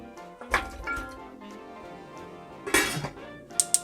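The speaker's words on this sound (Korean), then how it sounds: "그럼 냄비에 다 담고 한번 끓여보도록 하겠습니다" Packaged galbitang beef rib soup being emptied into a cooking pot: sharp metallic clinks, light drips and liquid trickling, close and fairly quiet, ending in a few bright taps.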